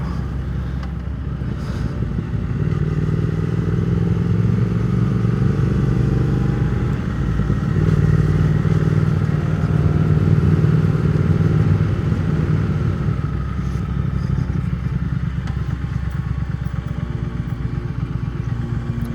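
A Triumph motorcycle engine drones loud and steady as the bike rides through a village in the hills above Sierre. The low rumble holds constant throughout, with slight swells in throttle and no talking.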